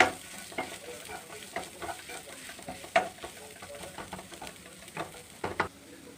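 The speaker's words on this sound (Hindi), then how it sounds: "मसाले को बहुत अच्छे से भून लेना है" Garam masala being fried and stirred in a pan for Lucknowi-style tawa paneer tikka masala: a steady soft sizzle under repeated sharp scrapes and taps of the spoon, close and unbroken.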